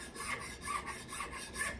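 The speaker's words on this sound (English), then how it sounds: "smooth file." A smooth file scrapes across gunstock wood in a rhythm of about four even strokes, close and quiet, each pass a dry rasping rub with no voices.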